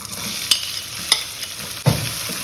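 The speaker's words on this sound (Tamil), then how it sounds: "வெங்காயம் கொஞ்சம் நல்லா வதங்கணும்." Soft oil sizzle of onions and garlic sautéing runs quietly beneath a few sharp scraping stirs of a spatula in a pan, with no voices.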